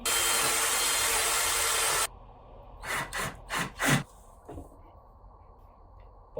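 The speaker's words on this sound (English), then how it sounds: "Now I'm just gonna drill a hole between the 2 of them." A power drill bores a hole through wood while making a fantasy golf bag, starting with a loud, steady two-second whir, then a few short, sharp bursts and softer scrapes after it stops.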